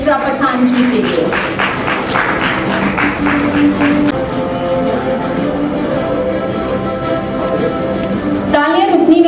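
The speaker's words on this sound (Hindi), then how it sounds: "तालियां होनी चाहिए बुशरा पठान जी के लिए" Applause from the audience for an awardee, Bushra Pathan of Nagpur, Maharashtra, at the Indian Galaxy Foundation's National Excellence Award 2023 ceremony; steady clapping runs throughout under music and a voice.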